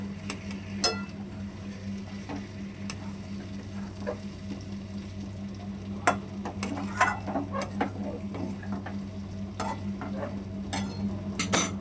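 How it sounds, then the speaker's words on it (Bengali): Koi fish stirred in a pan with hot water for tel koi, quiet low bubbling and soft sizzle with scattered clicks and scrapes of a utensil against the pan, a steady hum underneath. "মাছটা দিয়ে দিলাম নেড়ে নিই মাছটাকে"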